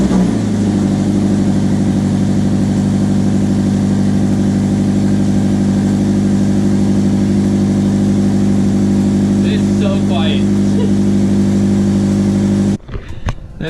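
A modified Scion FR-S engine, now fitted with a quiet stock exhaust, runs at a steady, even idle for about twelve seconds before cutting off abruptly, close and loud with a faint voice partway through.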